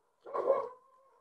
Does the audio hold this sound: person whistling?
no